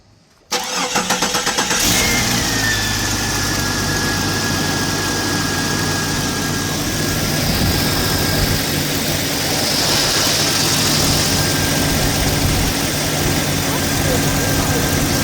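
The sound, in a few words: 1999 Jeep Cherokee XJ 4.0 engine cranking and idling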